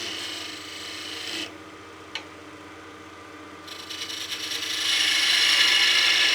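A woodturning lathe cuts a spinning top blank with a tool that chatters from a heavy cut, making a steady rasping, scraping hiss that briefly drops out and then returns louder near the end, with no speech.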